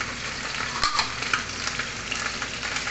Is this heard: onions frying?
yes